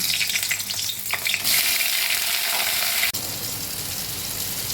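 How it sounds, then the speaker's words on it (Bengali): Pointed gourd (potol) pieces fry in hot oil in a wok, a loud, dense, continuous sizzle and crackle close up, with a brief dip near the end and no talking. "কড়ার মধ্যে তেল দিয়ে দিয়েছি। এবারে পটলগুলো আমি ভেজে তুলে নেব।"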